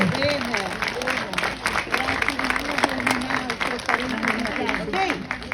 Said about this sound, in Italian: Quindi facciamo un applauso, ok?